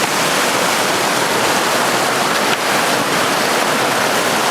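Panther Creek rushes into the Conasauga River, a steady, loud, broadband wash of flowing water that stays constant throughout with no voices.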